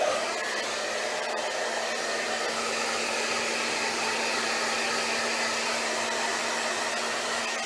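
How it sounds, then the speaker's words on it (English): A hair dryer blows in a continuous loud, steady whoosh with a low motor hum while drying hair close by, with no talking. "this is where the noisy bit happens"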